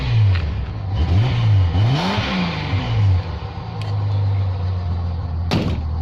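An old Rover car engine running on stale fuel stumbles and revs unevenly up and down close by, then settles into a steadier idle, with a sharp clunk near the end.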